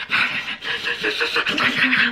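A person imitates the rapid, breathy panting of someone out of breath while cycling, a quick run of close, voiced huffs and gasps.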